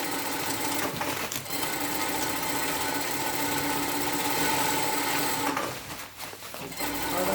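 A sewing machine runs a seam down the middle of elastic on a volunteer coverall, a continuous close-up mechanical whir with a brief pause near the end before stitching resumes.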